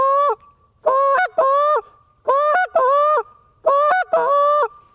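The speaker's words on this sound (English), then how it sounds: "It's just a moan, and I open my hand a little bit and bring my tongue up to make a cluck" A short reed goose call blows a string of loud, honking moan notes, close and clear, in paired bursts with short gaps between them.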